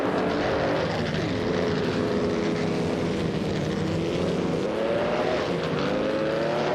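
Racing car engines in a driving video game, led by a 1952 Ferrari 375 Indy, roar loudly and steadily throughout, with several engine notes rising and falling together as cars run close.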